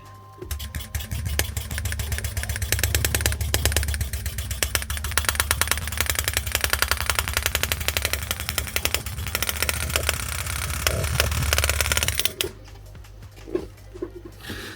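Engraving tool cutting into a Killerbee tattoo machine frame, a fast, buzzing hammering rattle held steadily for about twelve seconds up close, then stopping into quiet handling noise.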